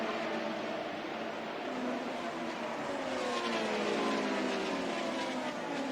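An IndyCar race car hits the wall at high speed in a crash involving two cars, heard as a loud continuous roar of engines and rushing noise with rising and falling tones and no voices.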